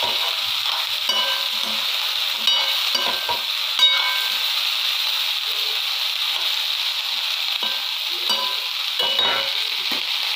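Cauliflower and potato sabzi frying over high heat, a steady loud sizzle with occasional scraping clinks of a spoon stirring through the pan, no voices.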